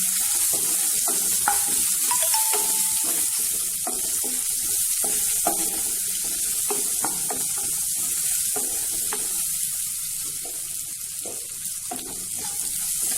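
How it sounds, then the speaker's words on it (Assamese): Ingredients with garlic and salt are stirred in a frying pan for a bottle gourd dish. A steady close sizzle carries repeated scraping taps of a spoon against the pan, with no talking. "অকণমান নিমখ এইখিনিকে ভালদৰে লৰাই লম।"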